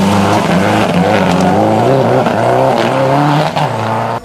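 A rally car in the Production World Rally Championship in Australia, struggling for traction on a slippery stage on tyres too hard for the surface, its engine droning loud and steady throughout.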